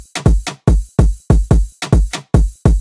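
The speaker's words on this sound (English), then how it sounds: "Then we just need some wood planks to get that reggaeton vibe." Wood plank percussion samples for a reggaeton beat give sharp, dry, knocking hits in a quick bouncing rhythm, loud and close with short decays. They play alone, with no voices.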